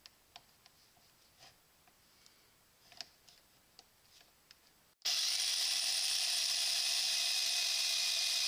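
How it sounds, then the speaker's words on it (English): An 18-volt cordless Porter Cable biscuit joiner cutting a biscuit slot: a few faint clicks and taps, then the motor cuts in abruptly, loud and steady, for the last few seconds. "we're going to go ahead and put our 18 volt Porter Cable Biscuit grinder to a test here and cut our first biscuit slot here"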